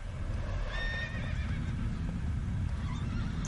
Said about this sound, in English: I swear to God, that is the same neighing sound of Epona